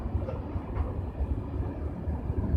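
A low, steady rumble of a TCDD E 68 072 electric locomotive hauling a freight ore train past near Bostankaya, Niğde, Turkey, with faint rhythmic clatter of wheels on rails throughout.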